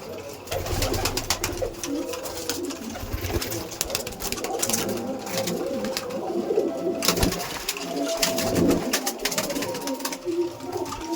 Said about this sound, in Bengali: আমি সমস্ত কিছু কিছু সংখ্যক পায়রা আপনার সামনে তুলে ধরবো কারণ প্রচুর পায়রা আছে